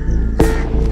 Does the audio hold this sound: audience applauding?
no